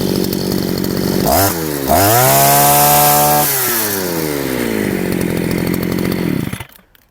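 Two-stroke brush cutter engine running after a carburetor adjustment, close and loud, its revs climbing sharply, holding a steady high buzz, then sinking back toward idle before cutting off.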